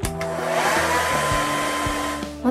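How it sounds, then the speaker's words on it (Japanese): A hair dryer blows steadily, close to the microphone, while it warms an eyelash curler during a makeup routine, a continuous airy whoosh with a faint motor hum that briefly shifts near the end. "ドライヤーで10秒ぐらい温めます。"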